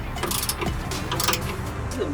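Wrench ratcheting while bolting a new bumper onto a 2019 Ford F-250, a close rapid clicking that comes in short uneven bursts over light mechanical clatter.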